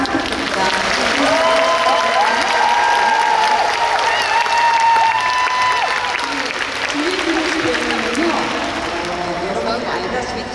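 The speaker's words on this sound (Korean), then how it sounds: "여러분 큰 박수 부탁드립니다" Loud, sustained applause from an outdoor cinema audience in a plaza at a film festival screening, with cheering voices and whoops mixed into the dense clapping throughout.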